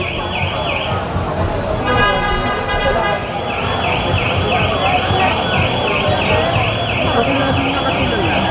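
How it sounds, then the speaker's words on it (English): A car horn honks repeatedly amid loud, busy street traffic, with a siren-like warbling tone rising and falling through most of the scene and people talking. "Who's honking while I'm trying to vlog here?"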